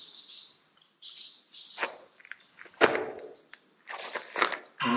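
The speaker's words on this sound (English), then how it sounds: "And some very anxious birds." Anxious birds in a nest inside a barn give rapid, high chirps and tweets. Short overlapping calls come in quick clusters, fairly close and clear, with no voices.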